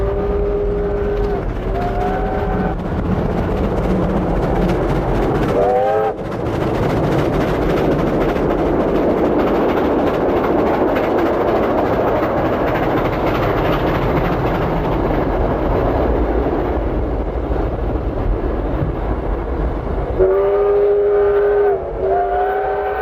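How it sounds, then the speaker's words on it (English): A V/Line special train, R761, rumbles loudly past on the rails near Heathcote Junction, with heavy continuous wheel and engine noise and several horn blasts at the start and the end. "R761 heads back to Melbourne with its special train"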